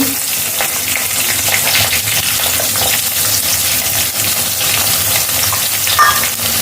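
Chopped onion and bay leaf fry in hot oil, a loud, close, unbroken sizzle with soft stirring and a faint metallic tick near the end.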